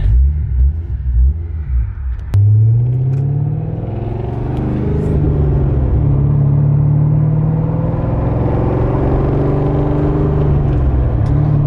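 Chevrolet Corvette V8 with a loud aftermarket exhaust rumbling from inside the cabin during a ride, a deep steady drone that swells as the engine pulls harder, with rising and settling tone and no talk.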